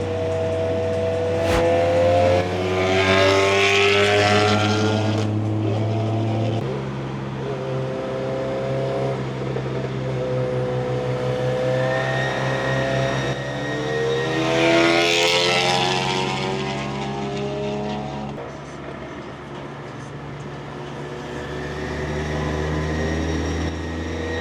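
A Volkswagen Golf 8R engine accelerates on a drive, its pitch climbing in two long rising sweeps over a steady droning road and engine note, close and fairly loud, with no talking.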